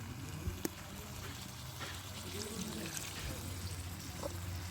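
Water is poured into two bowls in a home kitchen while cabbage and potato curry is being made. It is a faint, steady trickle and splash close by, with low background hum.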